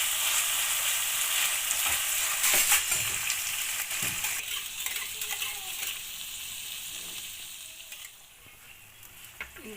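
Carrot, beans and onion stir-fry in a hot street-food wok for egg noodles, loud and close, with a bright crackling sizzle and clattering tool strokes that ease off gradually over about ten seconds.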